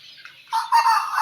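Chickens at a tiger chicken farm, with one bird letting out a short, loud, close call that rises sharply halfway through, over otherwise quiet surroundings.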